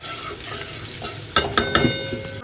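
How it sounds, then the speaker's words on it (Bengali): Black cumin seeds and green chillies drop into hot oil for a tempering, a quiet background crackle suddenly bursting into three loud, sharp sizzling spurts that settle into a lively frying hiss. "এখানে কালো জিরে আর কাঁচা লঙ্কা ফোড়ন দিয়ে দিলাম"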